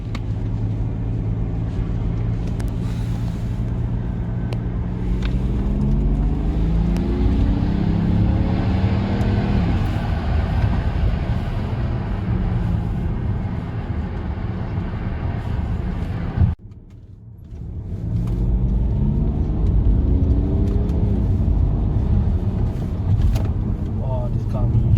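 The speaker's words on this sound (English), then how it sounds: "Oh, this car moves. This car moves. It's quick." A stage 1 tuned BMW E60 535d diesel accelerates hard on the road, its engine note rising loud and close through several gear pulls. It drops briefly near the end, then builds again.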